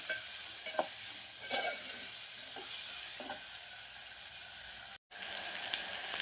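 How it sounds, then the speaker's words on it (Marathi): Tomatoes and onions frying together in a pan, a steady close sizzle with a few soft stirring scrapes, briefly cut off near the end before resuming. "टोमॅटो पण भाजून घेऊया कांद्याबरोबर आपण. टोमॅटो मऊ होईपर्यंत भाजायचा आहे आपल्याला."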